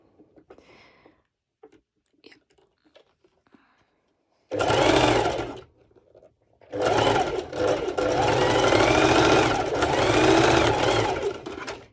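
A sewing machine stitching a sporty twisted top: after quiet handling noises, a short whirring burst of stitches, a pause, then a longer steady run of close, loud mechanical stitching.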